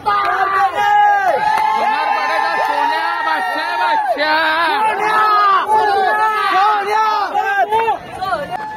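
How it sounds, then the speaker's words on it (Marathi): A large crowd at a village bullock cart race ground roars and cheers continuously, with loud shouting voices and babble layered over one another, close and sustained throughout. "खूप सारा जल्लोष झालेला आहे"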